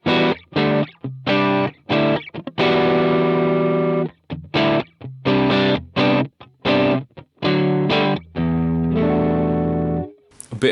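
Electric guitar runs through a Supro 6166 amp model on a Line 6 Helix with a greenback cab and 67 condenser mic, playing distorted chords and riffs in stop-start bursts with sustained ringing notes.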